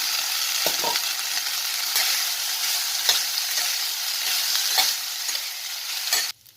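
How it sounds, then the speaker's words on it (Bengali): Cooked rice frying in a small amount of oil for mango lemon rice, a steady close sizzle broken by occasional scrapes and stirs of a spoon against the pan, with no talking. "তেল আমি একদম কম দিয়েছি জল মেলানো ভাতটা দিয়ে দিলাম"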